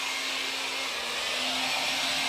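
A Parkside PUV 2000 B1 electric weed burner blows hot air at painted material, a steady breathy whoosh with a faint motor hum beneath, unbroken and fairly quiet from start to finish.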